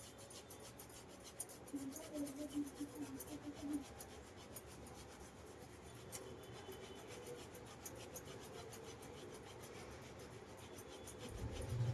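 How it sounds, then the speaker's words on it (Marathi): Fresh ginger is grated by hand, a faint, soft rasping and rubbing that repeats in quick strokes, close but quiet, for a crispy dried-fish fritter recipe. "आपण अद्रक किसून टाकूया"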